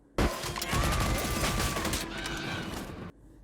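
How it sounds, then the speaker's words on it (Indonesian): Rapid, wild gunfire from the Arcane animated series as Jinx shoots blindly, forming a dense, loud burst of overlapping shots and crashes lasting about three seconds before cutting off abruptly. "Lalu Silco dan V meneriaki Jinx yang membuatnya menggila dan menembak membabi buta"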